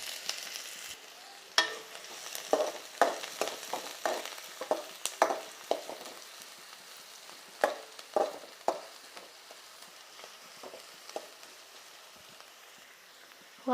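Finely chopped large onion frying in oil for an Assamese fish head curry, a constant close sizzle broken by sharp pops, spits and stirring taps scattered irregularly throughout.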